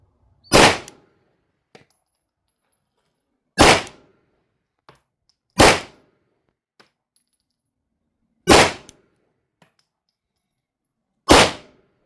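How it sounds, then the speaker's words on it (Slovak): Glock pistol fired at an indoor shooting range at about 6.5 metres: five single loud, sharp shots spaced roughly two to three seconds apart, with faint clicks of handling between them. "Takže keď ste strelali z Glocku, tak toto tak strieľa."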